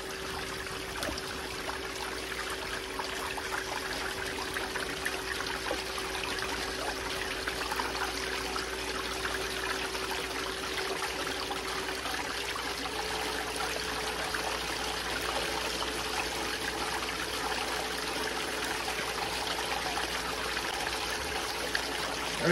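A water pump run up to full pressure pushes a steady, loud stream of flowing water through a blockage of rocks and debris, a continuous rushing trickle that holds unchanged from start to finish with no voices.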